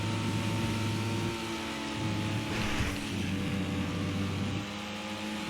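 The rear-engine Pfister Comet SR sports car in GTA 5 drives hard, its engine droning loudly and steadily as it accelerates, with the pitch shifting between gear changes.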